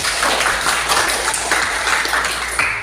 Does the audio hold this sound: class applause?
yes